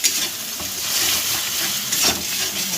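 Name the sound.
eggs frying and being stirred in a pan for chowmein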